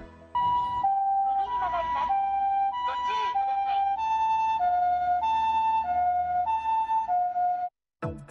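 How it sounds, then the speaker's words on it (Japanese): Ambulance siren in its soft-tone mode, made for driving through residential streets late at night, plays a gentle two-tone wail that alternates steadily and stays clear and fairly close, with no voices over it and a short pause near the end. "もともと救急車には深夜の住宅街などを走行する際に使用するソフトな音質のサイレン機能を備えている"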